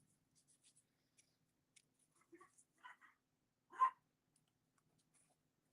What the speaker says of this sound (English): The other ones are barking.